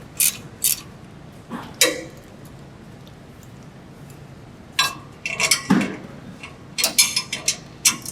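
A wrench tightens the remaining bolts at the rear of a BluePrint Automation Collator 200 during maintenance, giving scattered sharp metallic clicks and clanks in short bursts over a quiet room hum.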